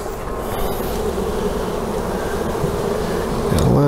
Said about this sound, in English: Got a lot of bees on the edge here.